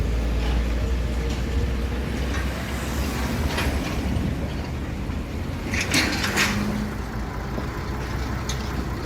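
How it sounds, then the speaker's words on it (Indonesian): Rail lorry train on a single track at a rail crossing, a rumbling pass with clanks and squeals, moderately close and steady throughout. "kereta lori ini melewati jalur single track dari arah selatan ya"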